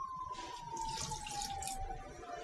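Water poured into a cooking pot of spiced fish head before bottle gourd goes in, a steady continuous trickle with a faint rising tone, close and moderately quiet, with no talking.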